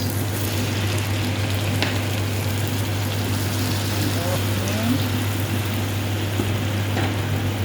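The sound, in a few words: stirring onion and soy sauce frying in pan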